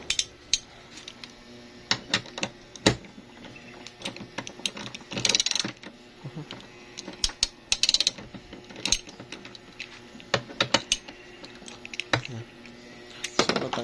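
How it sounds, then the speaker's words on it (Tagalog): A ratchet wrench clicks in short bursts while two bolts are loosened from a Honda Sniper motorcycle seat, with metallic taps and clinks between close, irregular runs of ratcheting. "So, una tanggalin natin itong dalawang bolt guys."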